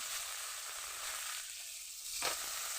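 Chopped tomato hits spices frying in hot oil, bringing a steady close sizzle that flares briefly louder near the end, with no talk over it.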